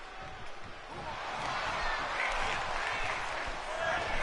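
Video game wrestling crowd cheering for Sheamus during a match, a steady broad roar of many voices that swells slightly midway and holds, with no clear speech over it.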